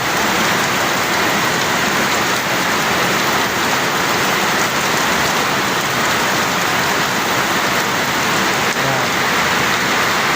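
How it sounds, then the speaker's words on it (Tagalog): Heavy monsoon rain in the Philippines, heard from a window, pours down in a dense, steady hiss that goes on throughout, with no voices. "Dito tayo sa may bintana ngayon, pinapanood lang natin yung ulan"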